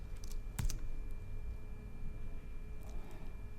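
A computer keyboard key, the caps lock, is pressed during a Photoshop session, giving a couple of faint, sharp clicks over a steady background hum, with no talking.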